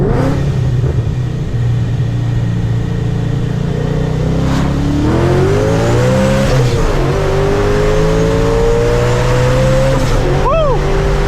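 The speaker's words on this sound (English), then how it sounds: "I'm about to do a first gear pull." Procharged Ford Mustang roaring through a hard first-gear pull, engine note rising steadily in pitch as revs climb, loud and close from inside the car, with a brief whoop near the end.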